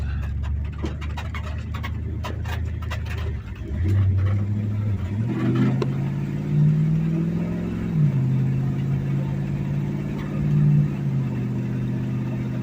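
A 1986 Dodge W150 pickup truck's low engine rumbles steadily nearby, its pitch rising and settling through several transmission shifts as the truck pulls along.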